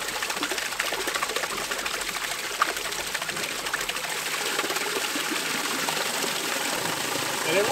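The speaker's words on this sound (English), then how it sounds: "the water's coming off the wheel right here" Water pours steadily off a microhydro waterwheel, a continuous, close, fairly loud broadband rush and splash with a faint mechanical whir underneath, holding an even level throughout.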